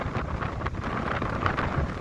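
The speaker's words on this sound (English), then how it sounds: "this is the mightiest, strongest wind up here if you ever known" Strong storm-force wind buffets an iron fire tower, a loud continuous roar with gusty rumbles hitting the microphone throughout.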